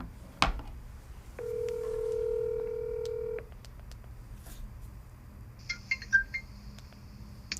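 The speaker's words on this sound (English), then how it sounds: "Let's just call her on the phone." A telephone call being placed: a sharp click, then a steady two-second dial or keypad tone, more clicks, and faint high-pitched ringback or ringtone chirps near the end, all fairly quiet with no voices.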